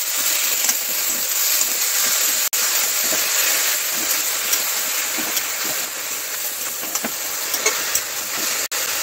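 Thankuni leaves and prawns stir-frying in a pan, a steady, bright sizzling hiss throughout with small pops and a couple of sharp clicks, no talking.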